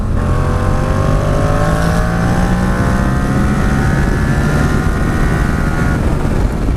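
A loud engine roars continuously on a test track, its pitch sweeping upward as it accelerates hard, a raspy exhaust note dominating throughout.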